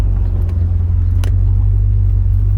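A 1974 Chevrolet Corvette with a 454 LS4 V8 and automatic transmission drives along in a steady, loud low engine rumble that holds throughout, with a faint brief click partway through.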